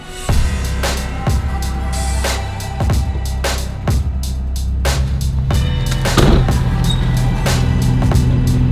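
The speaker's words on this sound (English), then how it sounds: "So we're gonna go ahead and back up the truck now." A junk removal truck reverses, its engine rumbling low and steady beneath repeated sharp clunks and rattles of the load and body, close and fairly loud, with no voices.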